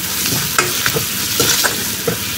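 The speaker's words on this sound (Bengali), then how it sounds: "তো সব কিছু দিয়ে এখন একটু ভালো করে ভাজা করে নেব।" Spices frying with salt, turmeric and green chili in a pan for a village-style dried fish dish, a loud close sizzle broken by regular scraping stirs of the spatula, with no one speaking.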